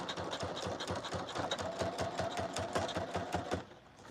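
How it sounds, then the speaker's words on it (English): Sewing machine running a straight stitch along jacket edges, a steady fast mechanical chatter of needle strokes, close and continuous for about three and a half seconds before easing off. "now I'm just turning those edges so I can do my straight stitch here"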